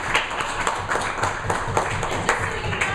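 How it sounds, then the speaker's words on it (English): A round of applause from a school audience for a student group, fairly sparse clapping with irregular louder claps over a low steady hum. "I think we should give Tech Funk a round of applause."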